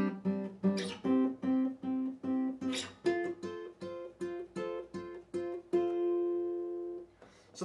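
Rhythm figure of a song on guitar, a chord progression of rapid plucked chords in steady rhythm, shifting through several shapes and closing on a sustained ringing chord, close and solo without any voices.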